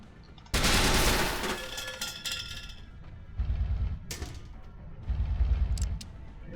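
Gunfire in the video game SteamWorld Heist comes as a loud sustained burst of shots followed by clinking and metallic impacts, then further shorter bursts, with no talking.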